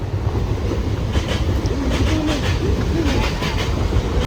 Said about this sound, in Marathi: इथे भाई ट्रेन बिन चालले ते बघा